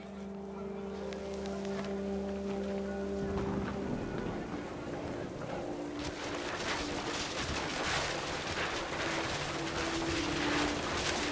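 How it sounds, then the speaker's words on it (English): Heavy, steady rain roars continuously in the video game What Remains of Edith Finch, loud and close, after a low droning hum fades out in the first few seconds. "The rain came down in buckets then"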